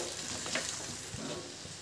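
Hakka noodles, dressed with sauce and vinegar, are stir-fried and tossed in a hot pan, giving a soft continuous sizzle with light scraping and stirring sounds, fairly quiet and without voices.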